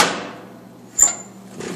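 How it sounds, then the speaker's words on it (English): A cast-iron door on a Gray Stove Works MINI12CT wood burning stove swings shut with a single short clunk midway through, close and moderately loud, followed by quiet room tone and a faint later rustle. "Close the door."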